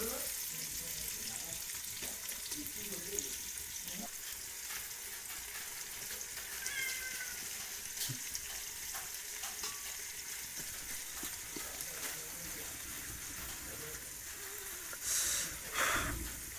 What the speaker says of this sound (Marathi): तेल बघा तापला आहे सणसणी त्यानंतरला कांदा त्यानंतर टाकला आहे कांदा